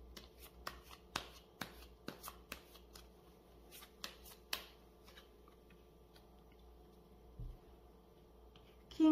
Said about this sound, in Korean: 실시간으로 여러분의 조언점 카드를 한 장 뽑아드리겠습니다